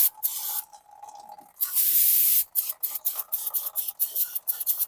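Brake cleaner sprayed onto car brake parts during a Toyota Highlander brake replacement: a steady aerosol hiss of about a second, then a run of short, rhythmic bursts of spray, close and fairly loud with no talk.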